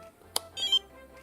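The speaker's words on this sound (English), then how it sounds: "it has a much more nice, welcoming beep to it" An OrangeRX Tx6i RC transmitter gives a short startup sequence, a sharp click followed by a brief two-part electronic beep, quiet and close in a still room.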